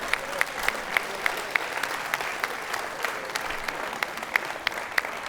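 A studio audience applauds a band's cover of a song, with steady dense clapping that holds evenly throughout, a few individual claps standing out crisply above the crowd.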